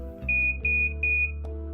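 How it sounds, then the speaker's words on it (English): An infusion pump alarm sounds in three short bursts of rapid high beeps, loud and close, over a steady low machine hum, as the pump stops. "The alarm will sound and the pump will stop."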